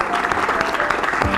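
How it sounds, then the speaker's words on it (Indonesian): Studio audience at an Indonesian TV show applauding, a dense, steady wash of clapping from a crowd, fairly close and continuous throughout. "Penonton tepuk tangan dulu untuk mereka bertiga."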